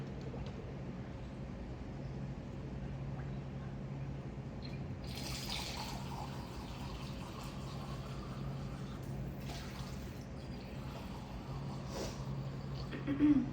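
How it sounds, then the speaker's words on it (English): Tap water runs steadily into a container on a classroom bench during a reaction-rate demonstration, a continuous moderate hiss over a low background hum, with a brief louder splash near the end. "I'm just going to get some new water."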